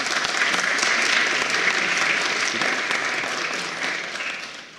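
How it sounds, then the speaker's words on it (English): Applause from the audience at a national youth parliamentary debate, a crowd of hands clapping steadily for a few seconds before gradually fading. "let's just give her a round of applause"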